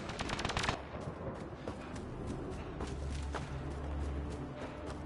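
Rapid bursts of automatic gunfire in the video game Mass Effect, a dense rattling volley at the start followed by scattered shots, footsteps and low rumbling combat noise.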